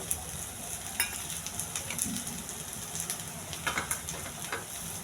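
Bitter gourd pieces coated in ginger garlic paste fry with curry leaves, giving a steady close sizzle broken by a few sharp spatters and stirring scrapes, with no voices.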